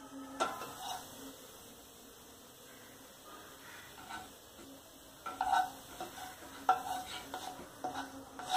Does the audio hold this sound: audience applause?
no